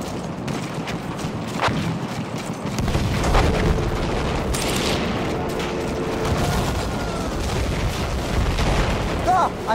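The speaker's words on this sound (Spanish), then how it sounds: "Ein Maschinengewehr!" Battlefield 1 combat fills the scene with booming gunfire and explosions, machine-gun bursts among heavy impacts, loud and continuous with voices shouting throughout.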